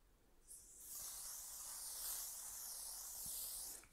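Makeup setting spray misted from a pump bottle, a soft continuous fine hiss lasting a few seconds, close and fairly quiet, with no talk.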